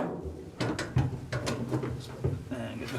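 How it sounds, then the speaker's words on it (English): Quick clicking bursts of a 7/16 socket ratchet tightening a seat bolt in an Austin Healey Sprite Mk1 Bugeye, repeated short strokes over a low background hum. "I'll just grab my 7/16 socket and get that caught by a couple of threads."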